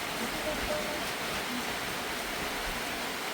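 Steady rain falling around a rice-field hut during a mushroom-foraging outing, an even, unbroken hiss that stays the same level throughout.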